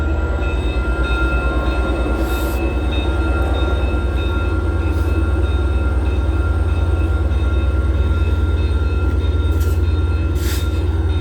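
A train passes steadily and close, a continuous loud rumble of rolling wheels with faint squeals and clatter over about eleven seconds, with no voices.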